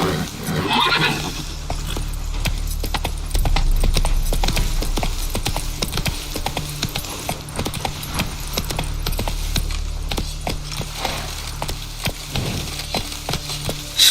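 Horse hooves clip-clopping steadily in The Witcher 3 video game, sharp, close, rhythmic strikes that continue at a walking pace over a low ambient rumble, with no talk.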